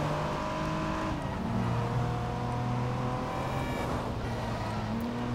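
A DMC DeLorean in Driver: San Francisco accelerates toward 88 mph: a steady, close engine drone with tones rising through the gears over a constant rush of road noise.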